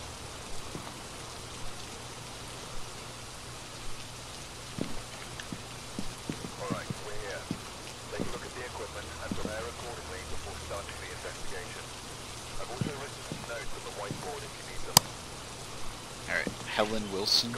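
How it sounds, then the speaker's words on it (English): Rain falls in the horror video game Phasmophobia, a faint steady patter on surfaces with scattered drips, while players talk quietly over it. "Sounds like it's raining. It's raining."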